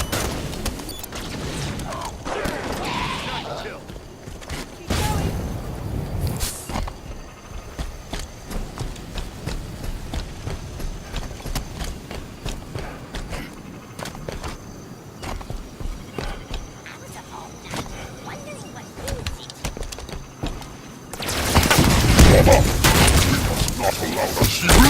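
Grenade blasts and scattered gunfire from the Halo 5: Guardians video game, with a heavy burst early on, intermittent shots and clatter in the middle, and a loud, sustained explosion near the end.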